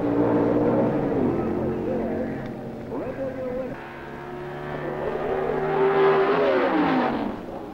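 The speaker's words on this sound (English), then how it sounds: "these super fast cars racing for the finish line at split second speed" Drag racing cars at the 1970 NHRA World Finals at Amarillo Dragway roar loudly and continuously, engine pitch rising and sweeping as they accelerate, with narration over the racing noise.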